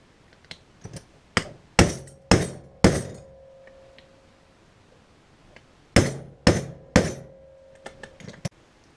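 Sharp metal hammer blows strike stuck bolts on a torque multiplier tool to shock them free, coming in two close, loud bursts of about half a dozen ringing strikes each, separated by a quiet pause.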